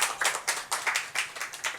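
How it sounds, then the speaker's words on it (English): A handful of people clap for a speaker at a live presentation, a short run of sparse, fairly regular claps from a small group, close and moderately loud, without talk. "can we have an applause everyone for Taryn?"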